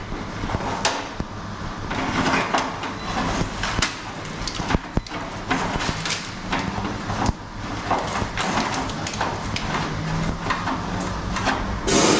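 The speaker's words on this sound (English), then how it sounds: "So I'll show you how this sprays. It sprays like this all around." Cavity wax sprayed from an aerosol nozzle into the body cavities of a VW T4 Syncro campervan, a loud, steady hiss running throughout with small sputters and bumps.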